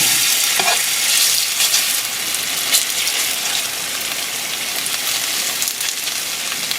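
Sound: shredded potato frying in hot oil in a pan

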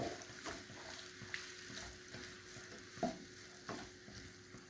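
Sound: onion sautéing in oil

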